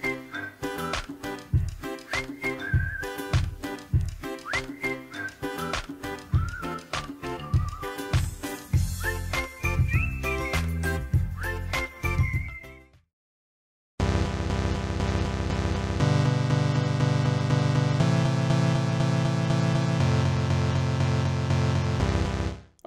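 Synthesized chords built in Chrome Music Lab Song Maker, a steady stream of bright layered tones with a short gap of silence midway, then a denser chord pattern over a low bass, played alone without talking.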